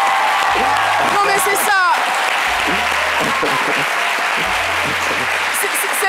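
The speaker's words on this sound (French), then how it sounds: "Est-ce qu'on ne peut pas applaudir pour le Gabon?" An audience gives loud, sustained applause for the Gabon team, a dense wash of clapping that runs the whole time while someone talks over it.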